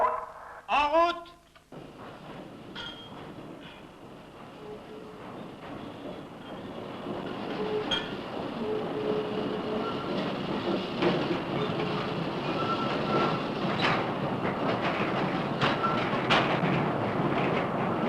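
Freight train of 15 wagons departing from a French iron-ore site, a brief opening horn or call followed by a low rumbling roll that builds steadily with rail clatter and squeals.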